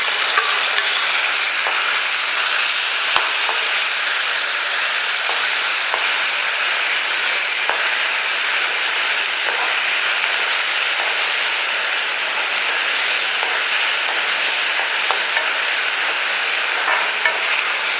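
Onion and tomato sautéing in a pan for brinjal rice, with a loud continuous sizzle and occasional light stirring clicks and scrapes.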